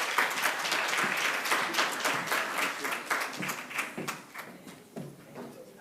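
Audience applause at the KZN DSD Partnership Summit 2026, a dense round of clapping from a hall crowd that holds steady and then thins toward the end, with no talk over it.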